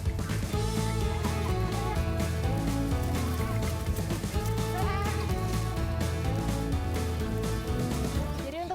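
Sheep bleat in a farm pen at Caringin Nunggal, where they are raised for milk and manure. The bleating is loud and continuous, layered with dense background noise throughout.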